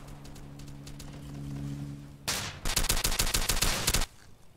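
A shotgun being fired in a video game: one loud blast followed by a rapid string of about a dozen sharp shots that ends abruptly, close and loud over a low background hum.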